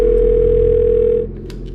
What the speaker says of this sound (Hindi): ठीक 15 मिनट के बाद तुषार के घर का फोन बजा।